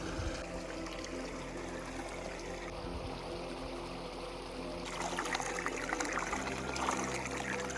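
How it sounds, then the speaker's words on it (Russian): Drinking-water springs trickling beside a mountain trail before the climb, a steady close stream and gurgle running continuously, growing slightly fuller toward the end. "Здесь слева есть родники, из которых можно, не боясь, набирать себе воды."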